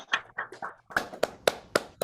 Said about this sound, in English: give a big round of applause for our fantastic panel